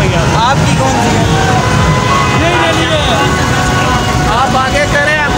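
An ambulance siren wails in rising and falling sweeps as the vehicle pushes through rally traffic on Murree Road in Rawalpindi, half-buried under loud crowd noise, engines and people talking nearby.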